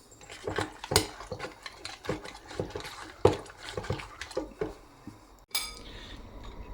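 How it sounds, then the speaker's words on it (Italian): Freshly picked, watery tomatoes worked through a hand-cranked food mill, giving a steady run of close metallic clicks, ratcheting turns and scraping clinks with no talk. "Giù i pomodori nel passaverdure e li passiamo per bene, così evitiamo bucce ed evitiamo semi."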